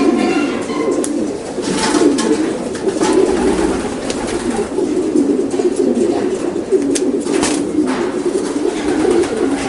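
Racing pigeons coo steadily inside a one-loft race loft, a dense, continuous murmur of many birds close by with occasional louder calls rising above the flock.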